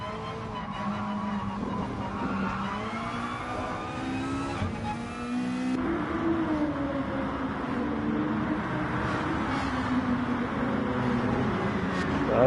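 Onboard engine of a Mazda Atenza race car in a Gr3 racing video game at the Nürburgring, a steady loud drone rising and falling through the gears, with other cars audible around it.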